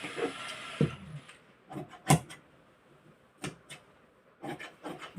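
Fabric being cut for a made-to-measure garment pattern with chest, waist and hip sizes: a series of close, separate rasping and rubbing scissor snips with brief pauses between them, no voices.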